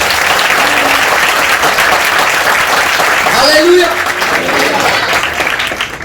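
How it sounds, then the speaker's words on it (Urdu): A church congregation claps loudly and steadily throughout, with a voice calling out in praise over the applause. "زوردار تالیاں دیں خداوند کو جلال کے لیے."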